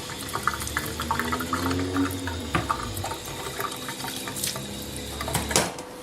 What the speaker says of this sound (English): And we're just gonna rinse it out.